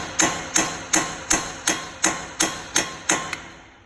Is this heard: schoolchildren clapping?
no